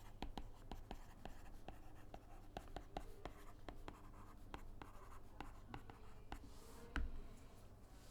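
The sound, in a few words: writing out a calculation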